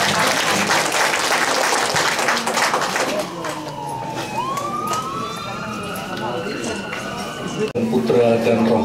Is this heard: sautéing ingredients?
no